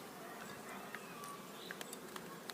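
Honey bees hum at an open hive during queen handling, a soft, continuous buzzing close by with a few brief louder passes of individual bees.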